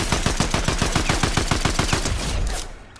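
Rapid automatic gunfire in the Fortnite video game, a steady burst of closely spaced shots lasting nearly the whole moment before cutting off, loud and close with no talk.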